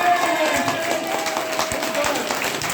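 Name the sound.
audience applause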